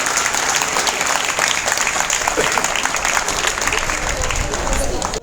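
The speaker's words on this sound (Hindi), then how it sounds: "एक बार जोरदार तालियां" Loud, sustained applause from an audience at an award ceremony honouring a teacher with a presidential award, dense clapping filling the whole stretch with some crowd voices mixed in.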